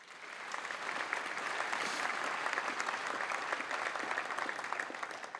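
Steady, even applause from a luncheon audience at a Missouri Sports Hall of Fame women's sports event, continuous dense clapping heard at a moderate distance without a break.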